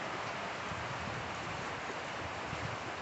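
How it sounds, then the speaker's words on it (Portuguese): Heavy rain pours in Jaru in a steady, dense hiss of falling water that fills the space evenly with no letup and no speech. "E começou uma chuva muito grande."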